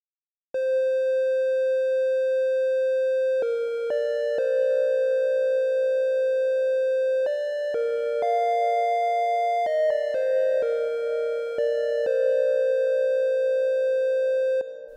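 Chiptune melody played in SunVox with an analog generator, pure buzzy square-like tones stepping between pitches in a simple tune, steady and clean with no talk.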